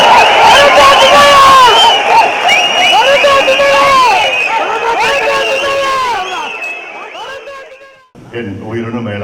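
Crowd at a political party general council meeting in Mamallapuram cheering and shouting together, a loud massed roar of voices that fades after several seconds before a single voice begins speaking.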